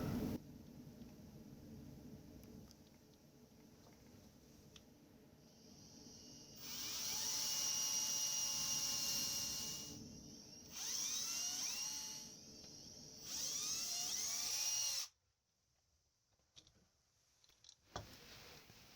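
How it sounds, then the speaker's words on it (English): A power drill drives screws into a shower drain flange in three whining bursts of a few seconds each, close and fairly loud, with quieter ticking and handling noises between and after. "then I'll temporarily put some screws in to make some reference marks"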